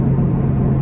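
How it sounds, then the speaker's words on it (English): Toyota GT86 performance four-cylinder engine running, a loud close steady low hum lasting under a second. "It sounds like a proper performance 4-cylinder engine."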